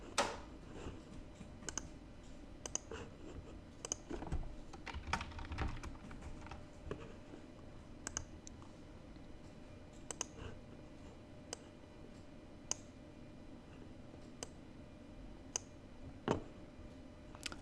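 Typing on a computer keyboard during an internet meeting with a shared desktop: scattered, fairly quiet key clicks in irregular bursts over a steady low background hum, with no voices.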